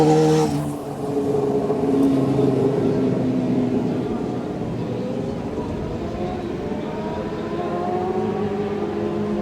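A racing motorcycle in the Manx Grand Prix Senior race on the Isle of Man roars close by, its engine note rising and then falling in pitch as it passes and fades into a sustained drone.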